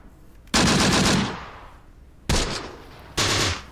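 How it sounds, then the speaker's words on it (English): Bursts of automatic gunfire from the Close Combat: The Bloody First war game: three loud, sharp volleys, the first longest, separated by brief pauses with no voices. "we are seeing some gunfire being exchanged here"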